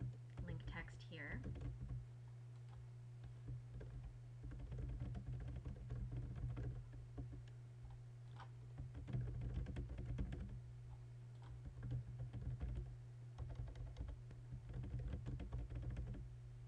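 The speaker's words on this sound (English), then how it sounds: "I'm just going to type in some sample link text here." A computer keyboard is typed on in a continuous, fairly soft flurry of keystrokes over a steady low electrical hum, close to the microphone.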